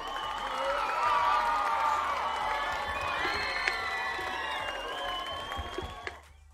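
Crowd cheering, whooping and applause sound effect played during a Boom Beach game stream, a dense, steady roar of voices and clapping lasting several seconds before cutting off abruptly.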